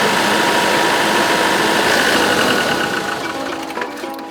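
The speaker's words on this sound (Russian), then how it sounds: "Двигатель запитан из вот этой бутылки по кругу." A diesel engine idles steadily while its injectors are flushed with cleaner fed from a bottle, a dense, rough, knocking drone close by that eases slightly toward the end, with no talking.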